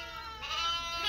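Timahdite sheep and lambs grazing in the open, with a steady, moderately loud bleating whose pitched cry swells midway and holds to the end, with no talk.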